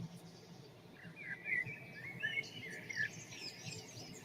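Small birds chirp and trill near water, a faint scatter of short high calls over a quiet, soft background hum.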